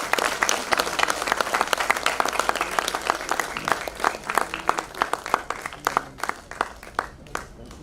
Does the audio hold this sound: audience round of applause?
yes